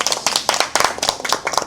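Primary school students at a reading and humanities camp applaud after a debate, a short burst of close, brisk hand clapping from a small group.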